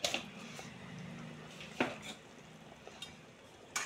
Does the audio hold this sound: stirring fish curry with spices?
yes